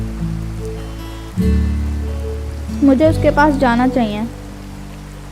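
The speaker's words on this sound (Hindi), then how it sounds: "बारिश होने लगी।" Rain falls in the Sakura School Simulator video game as a steady, soft hiss throughout, with a voice speaking over it partway through.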